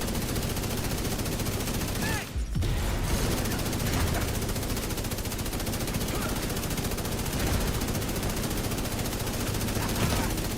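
Video game gunfire from Division 2: dense, sustained automatic shooting that runs almost nonstop at steady loudness, with a short dip near the start. Voices talk faintly over it.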